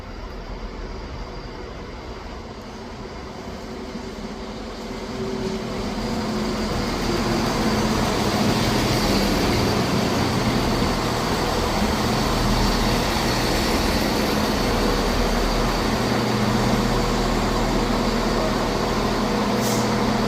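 A ScotRail class 170 diesel unit pulling out of Edinburgh Gateway station, its engine rumble and rolling noise building over the first few seconds and then holding steady and loud, close by.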